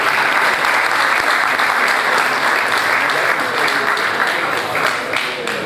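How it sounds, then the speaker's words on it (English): Sustained applause from a conference audience at a university scientific meeting in Ibadan, Nigeria: dense, steady clapping filling the hall throughout, evenly loud with a slight dip near the end. "We deserve a clap."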